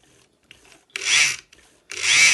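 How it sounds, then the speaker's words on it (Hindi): An old sewing machine, running again after a long idle spell, gives two short bursts of loud whirring with odd rattling at close range, separated by quiet clicks. "मेरी मशीन जो है ना काफ़ी अर्से बाद उसको ख्याल आया चलने का, तो इसमें से अगर कुछ अजीब सी आवाज़ें बरामद हों"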